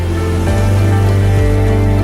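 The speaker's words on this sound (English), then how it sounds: "Italy is raining heavily tonight." Heavy rain falls at night in Venice, Italy, a loud, continuous hiss and patter close to the microphone, with a steady low hum running underneath.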